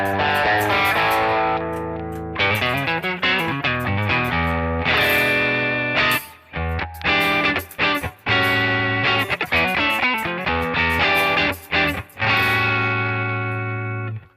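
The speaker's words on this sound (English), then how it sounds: "Let's turn a little distortion on, see how it sounds with it." Electric guitar through a Headrush multi-effects unit with light distortion added over a hall reverb, loud chugging chords and picked notes ringing with sustained crunchy tails, played alone without any voices.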